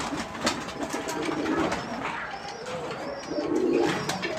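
Pigeons cooing in their loft, soft low throaty coos recurring in a few bursts at close range, with faint chirps and light rustling behind.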